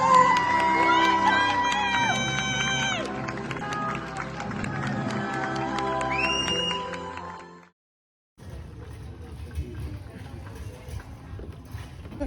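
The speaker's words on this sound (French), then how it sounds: "je vous demande un tonnerre d'applaudissements," A crowd cheers and applauds loudly at a Miss Petite Universe Franche-Comté 2024 beauty pageant, mixed with music, then breaks off briefly before rougher crowd noise resumes.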